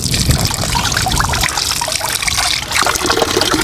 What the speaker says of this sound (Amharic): በዚች ከተማ በየቦታው የሚጠጣ ንጹህ ውሃ አለ።